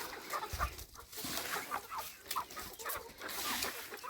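Faverolles chickens cluck softly at a distance, with low, scattered clucks and murmurs rising over faint background noise.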